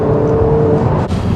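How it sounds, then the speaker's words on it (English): Ferrari 488 supercar engine giving a short, loud, close burst of steady drone with a brief dip near the end, with no voices over it. "Let's enjoy the sounds of the Ferrari 488."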